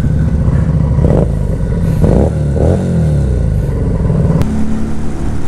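A Fekon 3GP sport motorcycle with a pro-arm swingarm revs loudly and close on a test ride in Antipolo, its engine note rising and falling in several surges over steady road rumble.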